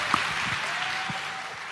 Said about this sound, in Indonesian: Kita kasih tepuk tangan untuk Anies Baswedan.